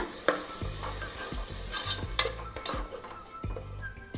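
Thick masala for mutton gravy sizzles and bubbles steadily in a pan, with a spoon stirring and scraping now and then, close up and without voices.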